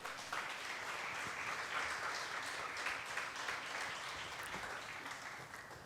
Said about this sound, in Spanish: Alabe al Señor y dele un aplauso